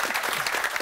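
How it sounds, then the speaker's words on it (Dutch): Audience applause fills a Dutch talk show studio celebrating 40 years of De Klomp, a dense, steady wash of clapping from a crowd, loud and close with no pause. "moeten we er even voor klappen?"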